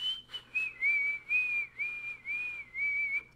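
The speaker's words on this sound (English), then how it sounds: "She whistles like how they usually do it." A clear, bright whistled melody in a played song carries a wavering tune in several phrases, close and alone over faint background hum.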